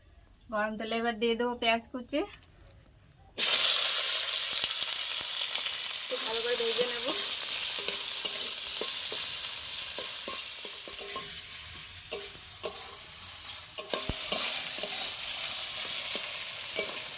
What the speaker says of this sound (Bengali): এবার আমি একই কড়াইয়ে আলুর পুরটা বানিয়ে নেব দিয়ে দেবো কড়াই সাদা তেল